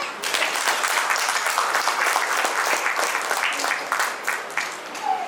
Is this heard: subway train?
no